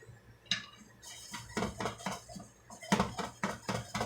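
An egg omelet being flipped in a frying pan, with several close metallic clanks and scrapes of pan and utensil in an uneven rhythm, and no voices.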